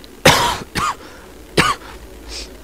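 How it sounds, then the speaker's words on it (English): A person with a cold coughs sharply twice, with a shorter throat-clearing burst in between, loud and close, followed by a faint breathy sound. "please excuse if I have to cough or clear my throat"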